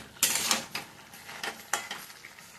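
A spoon working through a pot of squash, potato and green banana curry, several scraping, clattering stirring strokes against the pot, close and moderately loud, with no speech.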